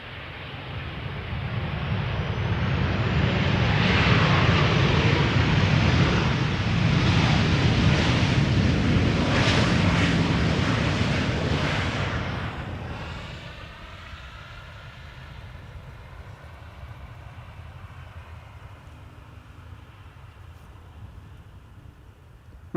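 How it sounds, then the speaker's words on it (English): An ITA Airways Airbus A321neo landing from Rome, a loud roaring rumble of engines and rushing air that builds, holds for several seconds, then fades to a quieter distant drone. "First one, A321neo arriving from Rome."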